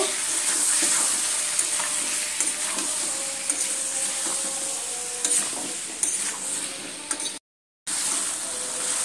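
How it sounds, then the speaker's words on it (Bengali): Chopped tomatoes with garlic paste and spices sautéing in a pan for Bengali egg omelet curry, a steady close sizzle with intermittent stirring scrapes, briefly cut to silence near the end. "এবার আমি ভালো করে কষিয়ে নেব।"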